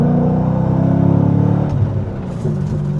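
A Chevrolet Corvette Grand Sport C6 with high mileage accelerates hard on a dry road, its engine a loud, steady, close rumble that rises in pitch and swells across the full stretch.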